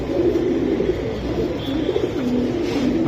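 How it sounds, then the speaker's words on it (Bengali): Glossy white pigeons kept for sale cooing nearby, a low, continuous throaty murmur that rolls steadily throughout, with no talking. "একদম হোয়াইট চকচক করা কবুতর।"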